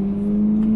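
Ferrari 458 fitted with an FI exhaust holding a steady, loud engine drone at high revs, close up and alone.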